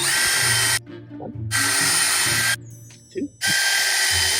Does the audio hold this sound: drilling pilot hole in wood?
yes